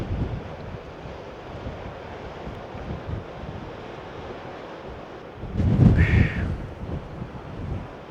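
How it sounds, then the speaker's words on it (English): Wind blows steadily across an outdoor scenic viewpoint as a continuous broad rush. It swells into a stronger gust that buffets the microphone midway, with a brief higher tone during the gust. "there's a little bit of, not a whole lot of wind"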